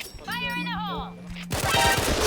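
A new gun fires in the online shooter Point Blank, a short burst of rapid shots that starts right after a voice speaks.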